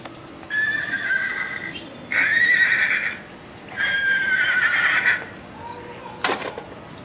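A horse neighs in three long whinnies close by, each lasting about a second, followed by a brief sharp knock near the end.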